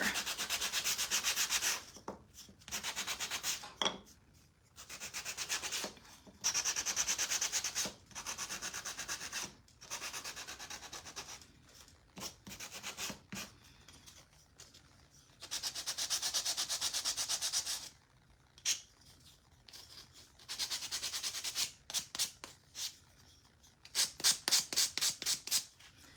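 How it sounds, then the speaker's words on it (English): Repeated bursts of sanding on wood, rough rubbing strokes in uneven rhythm with short pauses between, close and fairly quiet. "I'm just kind of sanding all the pieces right now so we can put him together."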